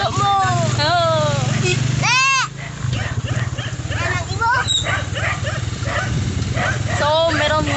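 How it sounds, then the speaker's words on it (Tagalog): Several dogs bark and yip in a Philippine neighbourhood on the road from Carmen to Tagbilaran City, loud and close with repeated sharp barks, while a motorcycle engine drones underneath and people talk. "So, meron maraming aso dito."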